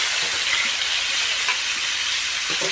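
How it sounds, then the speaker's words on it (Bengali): Chopped ash gourd hissing and sizzling in hot oil tempered with black cumin, a steady broadband fry noise held close and even throughout, with no voices. "এই যে চাল কুমড়াটা কেটে রেখেছি ওটা দিয়ে দিলাম"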